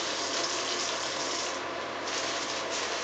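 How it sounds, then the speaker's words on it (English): Water runs steadily from a sink faucet during handwashing, a loud continuous broadband rush that holds for about three seconds with a slight dip midway, no speech. "I'm going to use this to turn off the faucet."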